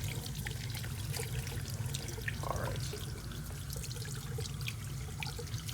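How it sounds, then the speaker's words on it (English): Water trickles from a tap over rinsed hands into a sink, a soft, steady splashing and dribbling under a low hum, fairly quiet and with no talk. "We want the water to trickle downwards."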